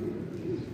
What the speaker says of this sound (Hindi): तो ये हमारे कबूतर हैं